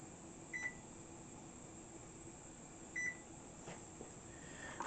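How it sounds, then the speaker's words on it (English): Two short, faint electronic beeps ring out about two and a half seconds apart as a kitchen timer is set for ten minutes while fried chicken cooks, over a steady low hum of the kitchen. "I'm going to set my timer for 10 minutes."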